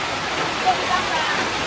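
Steady rain falls on a cold mountainside, a dense even hiss of drops that continues without a break throughout.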